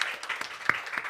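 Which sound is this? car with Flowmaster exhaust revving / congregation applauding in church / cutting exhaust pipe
congregation applauding in church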